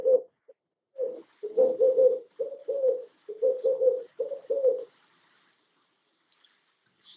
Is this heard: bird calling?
yes